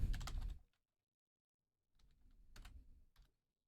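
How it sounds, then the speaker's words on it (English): Someone types on a computer keyboard in two short, close bursts of clacking, separated by more than a second of silence, with no speech. "I guess it's easier to type it."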